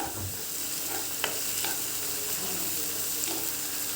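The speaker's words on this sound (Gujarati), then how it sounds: "એને પણ 2 મિનિટ માટે આપણે સાંતળીશું" Chopped capsicum sizzles in a hot pan close by, with a few light scrapes and taps of a spatula as it is stirred.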